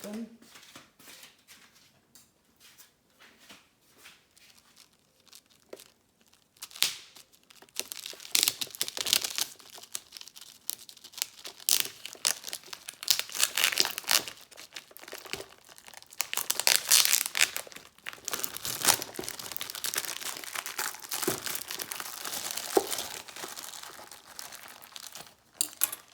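A knife cuts into the crinkly plastic packaging of a small keto cauliflower-crust pizza, with bursts of crumpling and tearing that grow busier and louder over time while someone talks intermittently.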